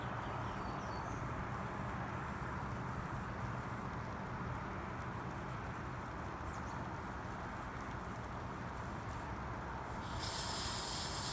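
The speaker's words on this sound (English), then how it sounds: "So that's actually sucking air in," A Toyota Hilux pickup tire with a weak bead sucks in air, making a continuous, even hiss that holds steady throughout and brightens slightly near the end.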